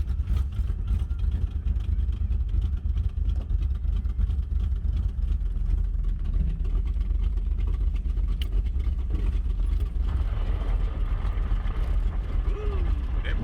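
A warmed-up third-generation Chevrolet Camaro engine runs with a steady, deep, close rumble throughout, with slight unevenness and faint background noise.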